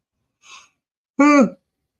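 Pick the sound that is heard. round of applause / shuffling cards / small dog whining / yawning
yawning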